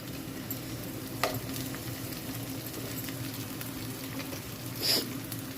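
Peas and onions fry in a pan with a low, continuous sizzle and a couple of faint utensil taps, steady and close.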